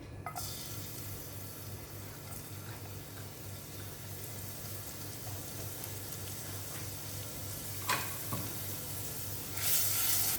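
Garlic sizzles in a tablespoon of oil over a medium-high flame, a steady dense crackle with a low hum underneath, a brief stir near the end, no talk.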